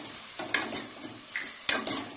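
Tomatoes sautéing in a pan for a mutton gravy, a close hiss of frying broken by sharp scrapes and clacks of a spoon stirring against the metal, no voices.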